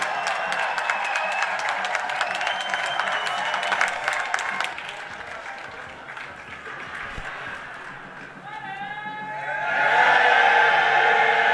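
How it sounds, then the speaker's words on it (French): Applause at a party congress hall, dense clapping from a large crowd that thins and fades midway, then swells again into louder applause with cheering toward the end. "Sous l'applaudissement."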